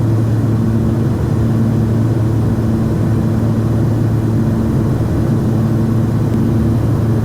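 A twin-engine Cessna 340 drones steadily on final approach, its propeller and engine hum loud, continuous and close throughout, with no voices.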